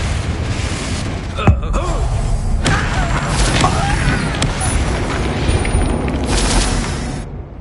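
A Confringo blasting spell goes off in Hogwarts Legacy as a sharp boom, followed by a dense, rumbling wash of magical effects and game ambience that runs on for several seconds.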